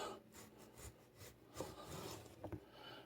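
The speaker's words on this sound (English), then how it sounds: "and just slice away. Be careful of your fingers if you're using a sharp knife." A sharp kitchen knife slices through firm green tomatoes, cut about a quarter inch thick for frying, giving faint scraping rubs and a few soft cuts against the board, quiet and close with no voices.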